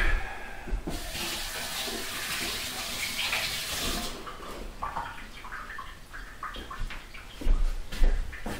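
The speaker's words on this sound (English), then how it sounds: "Now, I'm just going to wash my hands, so give me a moment." Hands are washed under a running tap as a steady close splash of water pours into a sink, followed by a few louder splashes and faint handling noises near the end, with no talk.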